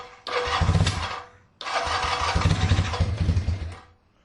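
Single-carburetor Kawasaki KZ440 motorcycle engine running close by, revving in two rough bursts that rise then fall away, with a short gap between them.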